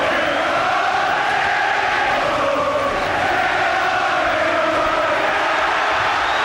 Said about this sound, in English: The crowd trying to urge Collins through this last half a minute